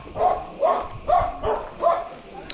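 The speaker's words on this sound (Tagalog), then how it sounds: "May aso. Sige, ang daming aso." A dog barks four times in a steady rhythm, each bark fairly close and distinct, with short pauses between them.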